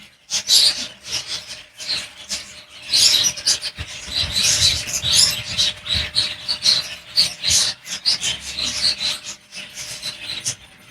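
Many small caged birds chirp and tweet continuously at close range in a bird shop at Kaptan Bazar, a busy overlapping chorus of high calls with occasional rustling, no talking.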